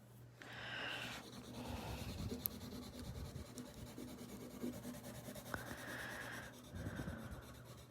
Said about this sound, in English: I might even go over this with a blender pencil